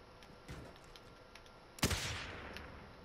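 Gunfire in Warzone: a faint distant shot, then a single sharp, loud nearby crack followed by a lingering echo, and a weaker shot after it against a quiet background.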